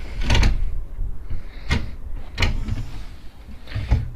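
A wooden door on a newly built chicken coop swings open, giving a few short creaks and knocks from its loosely fixed hinges, spread over a few seconds and fairly close.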